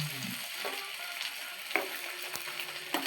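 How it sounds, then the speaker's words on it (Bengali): Fish lightly frying in a pan, a steady sizzle and crackle with occasional sharp pops and the scrape of stirring, close and moderately loud with no talk. "মাছগুলোকে একটু হালকা করে ভেজে নিচ্ছি"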